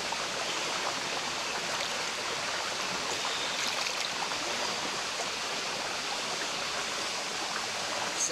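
Clean mountain falls pouring steadily into a bathing pool, a dense, continuous rush of falling water filling the scene at close range with no breaks and no voices.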